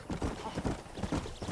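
Horse hooves in the video game Red Dead Redemption clop rapidly in a galloping rhythm, close and continuous, with a faint voice underneath.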